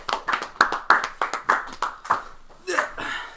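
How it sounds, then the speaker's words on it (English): A small group clapping to welcome a special guest on a podcast, a handful of sharp, separate claps in an uneven rhythm close to the microphone, with cheering voices near the end. "Give him a round of applause."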